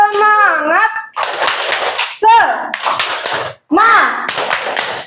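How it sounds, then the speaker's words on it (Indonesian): A class of schoolchildren in a classroom performs a rhythmic clapping cheer: loud sung chanting voices alternate with bursts of group claps in a quick patterned rhythm. "yuk kita tepuk semangat dulu"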